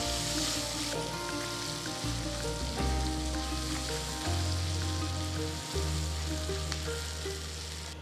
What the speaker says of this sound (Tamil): கொஞ்சம் ஃப்ரெஷ்ஷான கருவேப்பிலையும் சேர்த்து நல்லா வதக்குங்க.